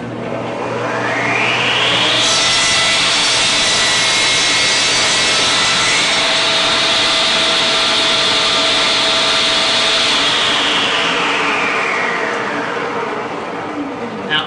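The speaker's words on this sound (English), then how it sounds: "I need to cut two boards, and I want to show you something important about making a compound miter." A Shopsmith saw cuts a compound miter in a board, running as a loud, steady broadband whine for about eight seconds with a rising spin-up at the start and a falling spin-down at the end.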